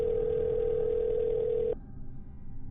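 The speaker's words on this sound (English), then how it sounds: "grab my phone and dial 911" A steady phone dial tone sounds loud and alone for nearly two seconds, then cuts off abruptly, leaving faint low background noise, as someone dials 911 at night.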